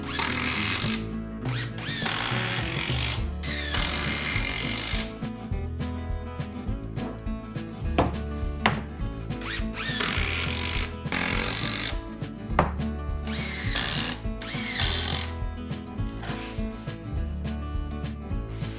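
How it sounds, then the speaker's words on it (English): A power drill drives a long 120mm screw into a wooden low queen bed frame in repeated loud, close whirring bursts separated by short pauses, with sharp knocks of wood between them. "Screw it from the backside with a 120mm screw."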